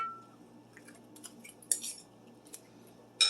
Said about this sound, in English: we're just going to mix it up a little bit with all the food in it.